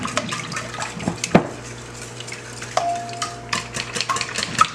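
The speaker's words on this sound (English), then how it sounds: "now I'm gonna just whisk this" Eggs are whisked with heavy cream in a bowl, giving quick irregular scraping and sloshing strokes with a few sharp clinks against the bowl, close and moderately loud.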